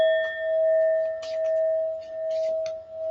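A small hand bell rings with a steady, sustained metallic tone that hangs through the whole moment, with a few brighter strikes layered on top. It is fairly clear and there is no talk.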